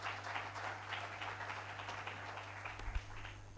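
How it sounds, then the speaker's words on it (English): An audience at an inaugural ceremony claps in steady, moderately faint applause that carries on for several seconds over a low background hum. "Give a huge round of applause for Dr."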